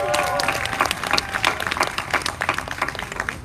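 An audience at a psychedelic medicine event claps throughout, a steady patter of many hands filling the room, with a bit of crowd noise mixed in.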